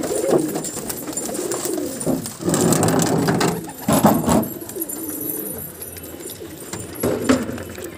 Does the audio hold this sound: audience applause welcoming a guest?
no